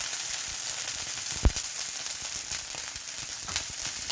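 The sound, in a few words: garlic sizzling in pan as white wine is added for shrimp scampi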